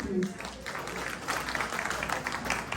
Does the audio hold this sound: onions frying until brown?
no